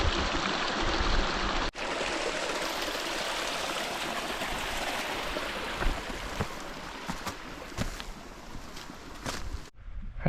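A stream crossing a hiking trail rushes and gurgles steadily close by, a continuous broad wash of flowing water over ten seconds with a few soft footstep thumps and no talking.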